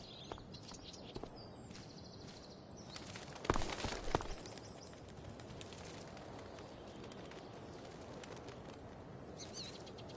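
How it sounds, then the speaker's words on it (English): A bird takes off with a brief burst of flapping wings in the video game Life is Strange, set against quiet outdoor ambience with faint cooing and scattered chirps. "One small flight for this bird, one giant leap backward for Chloe Price."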